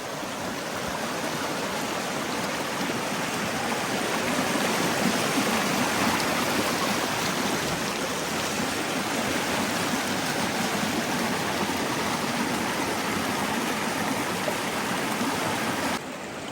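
Water flowing over a worn, grooved limestone riverbed in South Canterbury, a steady, full rushing wash heard close and unbroken throughout, with no talk.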